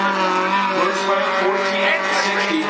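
Race cars roar around the Cottage Grove Speedway on the first lap, a dense continuous engine drone with tire squeal mixed in, loud and close throughout.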